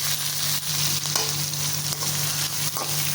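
Garlic, onion and curry leaves sauté in a pan for cabbage poriyal, a constant close sizzle with a few soft stirring scrapes and no talking.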